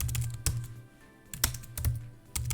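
Fingers type on a computer keyboard in quick irregular bursts of close clicks, with short pauses between the runs.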